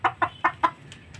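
Heritage Rhode Island Red and Black Australorp hens cluck in four clear, evenly spaced bursts at close range, followed by softer, fainter clucks, with no talking.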